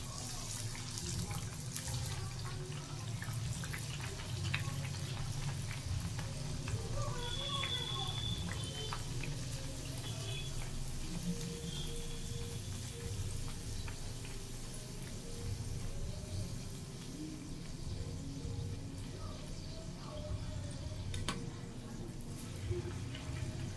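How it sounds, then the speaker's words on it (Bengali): Kachori deep-frying in hot oil gives a steady, dense sizzling hiss that runs unbroken throughout, with a voice talking intermittently over it. "এই যে কচুরিটা ভাজবো।"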